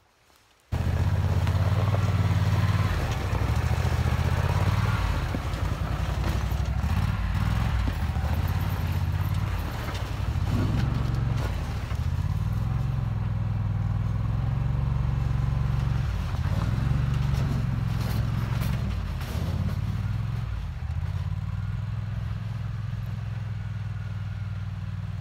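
A buggy engine drones steadily while towing a cart across a snowy field, a loud continuous motor hum with periodic surges and dips in pitch as it rolls along for the whole stretch.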